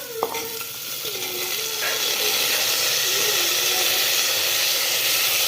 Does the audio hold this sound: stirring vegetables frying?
yes